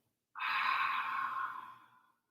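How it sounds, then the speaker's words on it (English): A single long exhale through an open mouth during a yoga breathing exercise, close and breathy, lasting nearly two seconds before fading out. "Open mouth, exhale."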